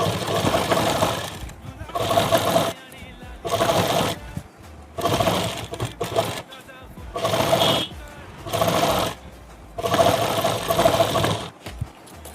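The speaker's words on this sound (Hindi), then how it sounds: "सिलाई लगा लेते हैं" Sewing machine stitching the elastic casing of a salwar runs in about eight loud, steady bursts of roughly a second each, separated by short pauses, with a voice speaking between the runs.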